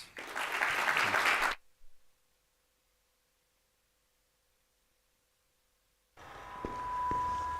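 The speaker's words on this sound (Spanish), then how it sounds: "Les quiero pedir un aplauso para nuestros invitados." A short burst of audience applause for invited guests at a panel on education challenges in Chile, loud for about a second and a half, then cut to near silence before faint room noise returns.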